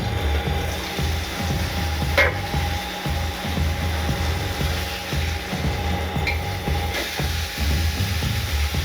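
BBQ chicken cooking in a covered dosa pan, a thick piece turned once, giving a steady sizzle and crackle with occasional sharp pops and a faint clink, all fairly loud and close.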